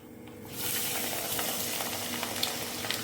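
Long-sliced garlic, about 100 to 150 grams, dropped into hot oil with popped mustard seeds for a fish pickle, bursting into a loud, close, continuous sizzle that holds steady throughout.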